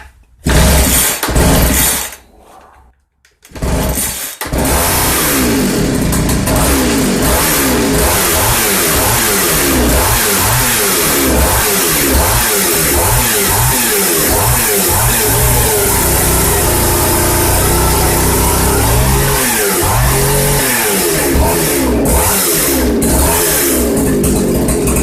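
A 1979 Poulan Counter-Vibe 3400 chainsaw sputters briefly, cuts out, then catches and runs loud and close, its two-stroke engine repeatedly revving up and dropping back in a steady rising-and-falling pattern.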